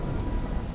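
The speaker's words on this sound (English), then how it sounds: "So, I mean, it's kind of raining." Steady rain falls outdoors during a thunderstorm, a dense, even hiss of drops on surfaces with no pauses across the short stretch.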